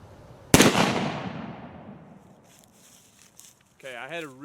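A single loud shot from a Traditions Trapper .50 caliber black powder pistol booms outdoors and rolls away in a long fading echo, followed by faint shuffling and then a voice.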